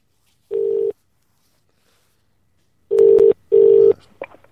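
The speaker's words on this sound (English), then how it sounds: "Right, I'll phone Kieran back" Telephone dialing tones: a single steady tone burst, a pause, then two more tone bursts close together, loud and clear with no talking.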